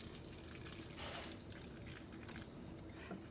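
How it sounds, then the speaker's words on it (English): Water pours into a measuring container up to the 8 ounce line while paper pulp pods are made, a soft continuous trickle with a few splashy surges, heard close and fairly quiet. "I'm going to pour my water up to the 8 ounce line."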